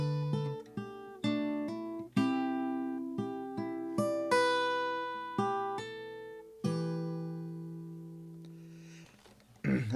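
A guitar riff played from tab, picked as a sequence of clean plucked notes and chords with sharp attacks, some notes left to ring before the next phrase, ending on a long sustained chord that decays, no talking.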